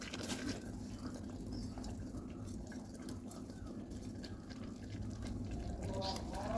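Beef masala simmering in a pan, a steady bubbling and hissing wash that holds at an even level throughout.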